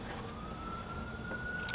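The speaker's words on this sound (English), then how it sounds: "Oh, I got some ambulances going by." A faint ambulance siren passes far off outside a workshop set well back from the road, its thin wailing tone rising slowly beneath a steady hum of background noise.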